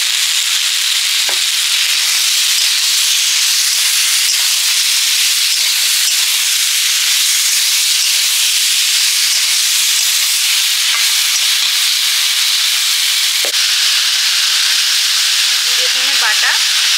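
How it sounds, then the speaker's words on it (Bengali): Vegetables sautéing with spices in a frying pan, a steady bright sizzle and hiss that runs throughout with occasional stirring scrapes, close and fairly loud. "সবজি কষানো হয়ে গেছে, এবারে মশলা জলটা দিয়ে দিচ্ছি।"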